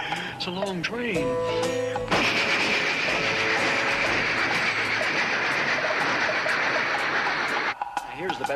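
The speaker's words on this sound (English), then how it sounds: "It's a long train." A long steam train rolls past with a loud, sustained roar and rattling clickety-clack of rail cars, preceded by warbling tones and ending abruptly, while a voice talks over it.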